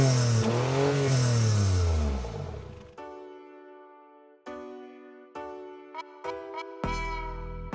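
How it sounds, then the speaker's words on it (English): A BMW X1 25e exhaust roars as the engine revs up and drops away, then gives way to steadier, ringing tonal sounds that start and stop. "And this is how the exhaust sounds like."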